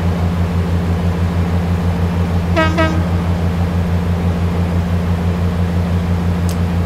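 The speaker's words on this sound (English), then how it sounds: "We have a high-speed train about to pass us." A high-speed train on the Great Western Railway in the simulator game Train Sim World 3 gives a loud, steady rumbling drone, broken midway by a short two-note horn blast.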